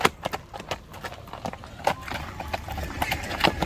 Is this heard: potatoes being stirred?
no